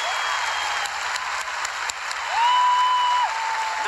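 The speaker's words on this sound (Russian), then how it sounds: "Аплодисменты!" Audience applause at a concert in Sochi after a performance, a dense steady wash of clapping from a large crowd, with a bright sustained tone rising over it in the second half.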